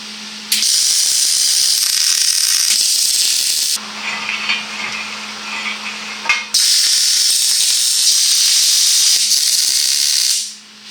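MIG-style welding tacks on a steel 20-ton press brake kit: a steady crackling arc hisses in two long close bursts with a hum, separated by a quieter pause of clanking and shifting metal.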